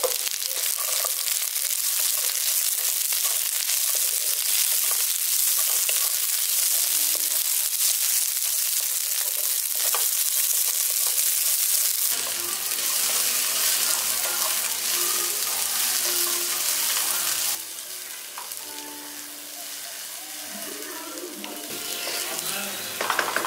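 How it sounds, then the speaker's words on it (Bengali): Green peas frying with potato in a pan for pulao, a soft steady sizzle with occasional stirring scrapes close by, no talking. "মটরশুঁটিটা দিয়ে ভাজা ভাজা করে নিয়েছি।"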